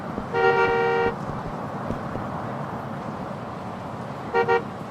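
A car horn in the open-world game Yakuza 5 honks twice: one longer blare of about a second, then a short tap a few seconds later, over steady street ambience.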